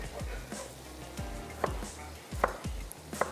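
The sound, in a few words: chopping tomatoes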